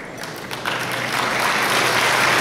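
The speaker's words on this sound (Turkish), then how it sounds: "Alkışı bitirince yapacağız sevgili arkadaşlar" An audience at a solidarity gathering breaks into applause that swells from scattered claps into a dense, loud, sustained wash of many hands.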